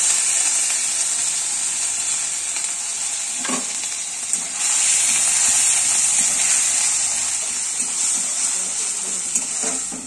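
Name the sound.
rice frying in ghee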